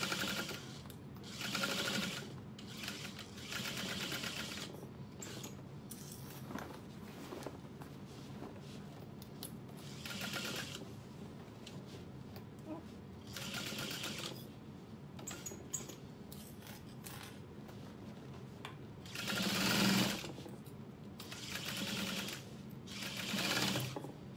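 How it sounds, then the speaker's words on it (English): A sewing machine runs steadily while it stitches a garment seam with a small stitch length, whirring continuously up close with small surges and slowdowns. Nobody talks over it. "We've got a small stitch length. And we're just gonna sew and move around"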